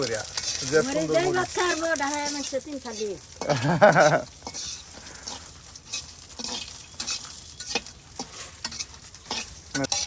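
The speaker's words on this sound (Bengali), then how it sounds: "কত সুন্দর মরিচ ভাজা" Dried red chilies sizzle in hot oil while a utensil stirs them in a pan for a village potato fry, with steady crackling and scraping throughout and a voice heard briefly near the start.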